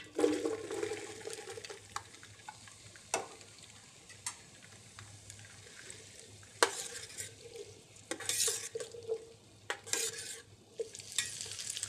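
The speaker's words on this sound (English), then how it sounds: "heat clarified butter and sauté medium-diced mirepoix until well" Medium-diced mirepoix sautés in clarified butter in a heavy saucepan, a soft steady sizzle broken by spoon scrapes and stirring clinks, fairly quiet with no talking.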